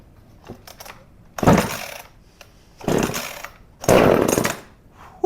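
A VEVOR 12-inch clone chainsaw takes three loud, rasping pull-start tugs with short pauses between, followed by a brief sputter, heard close up with no talk.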